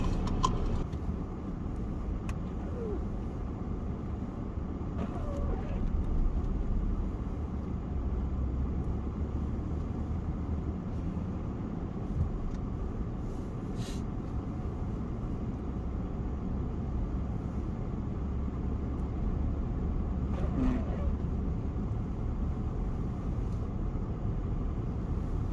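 A car drives along a snowy road in Sweden during a snowstorm, heard from inside as a steady low engine and road rumble with faint clicks and rattles and no talking.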